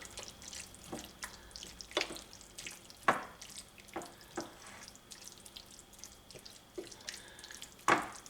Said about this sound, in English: And I'm going to stir these together.